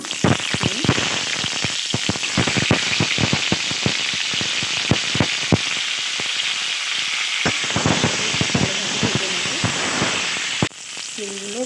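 Food frying in a pan of freshly topped-up hot oil makes loud, dense crackling and popping that runs continuously, easing briefly near the end.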